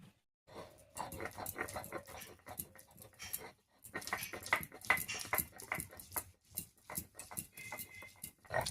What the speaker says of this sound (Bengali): এবারে একসঙ্গে করে বেটে নেব